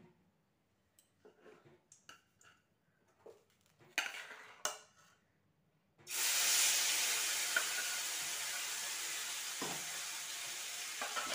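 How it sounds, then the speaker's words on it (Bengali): Spices hitting hot oil in a wok burst into a loud, continuous sizzling hiss partway through, after a few quiet clinks of utensils against the pan. "এবার মশলাগুলো ভালো করে ফ্রাই করব"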